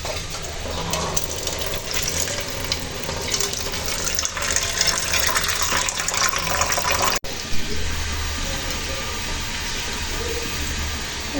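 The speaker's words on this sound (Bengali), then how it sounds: "তখন এই মশলাগুলো ভালো করে একটু ধুয়ে নিব।" Tap water runs steadily over spices being rinsed for a rice pudding, a continuous close splashing flow with a brief break near the end before it resumes.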